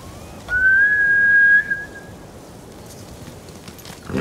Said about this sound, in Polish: Serio nie wiedziałeś, że można gwizdać na konie?